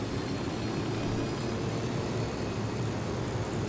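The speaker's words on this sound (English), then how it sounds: "I'm gonna take the helicopter and lead your way." A helicopter in the video game Ghost Recon Wildlands flies with a continuous, faint, broadband rotor and engine drone that holds steady throughout.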